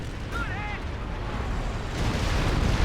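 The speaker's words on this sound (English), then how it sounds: "Anyway, lots of explosions." Battlefield explosions from the WWII strategy game Company of Heroes 2, with Stuka dive bombers in the match: dense rumbling booms and bursts of artillery fire roll continuously for about three seconds, swelling louder toward the end.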